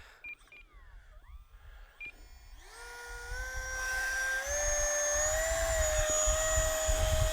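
After a few brief chirps, an Arrows Viper RC plane's small electric motor whines up to full throttle, a rising high-pitched buzz that settles into a loud, steady scream.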